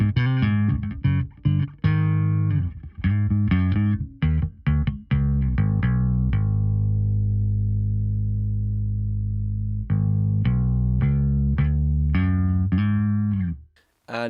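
Fender Precision bass through amp and cabinet simulation, beefy and distorted, playing choppy riffs, then a long ringing note held for several seconds before more quick notes, close and loud with no talk.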